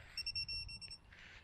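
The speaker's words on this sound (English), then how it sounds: "that beep there is just saying it's found enough satellites to fly" A Z-84 Wing Wing drone gives a rapid series of high electronic beeps signaling it has found enough satellites, chirping briefly at low volume, followed by quiet background noise.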